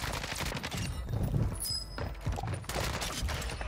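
Gunfire from a gun in the video game Warzone, rapid bursts of shots crackling in quick succession with short gaps, moderately quiet and mixed with other game sounds.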